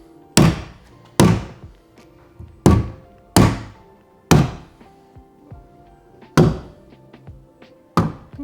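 A taped rubber mallet bangs a ply panel into a van wall, eight loud, resonant thunks spaced about a second apart, each followed by a brief hollow ring, with no talking.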